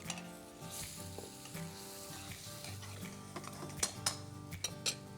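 Mutton hits a pan of hot oil with turmeric, coriander and cumin powder, setting off a soft, steady sizzle, then a few bright metallic clinks of a utensil against the pan near the end.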